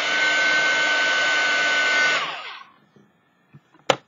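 An embossing heat tool blows a steady, loud whoosh over a gesso-coated art card for about two seconds, then winds down and cuts off, followed by a few quiet clicks and a sharp handling knock near the end.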